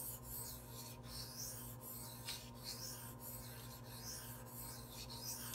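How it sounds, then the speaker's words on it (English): Steel knife blade stroked across a 1k to 1.2k grit silicon carbide sharpening stone, a faint, steady rasping with regular strokes about once a second, alone with no talk. "feeling the knife gliding across the stone"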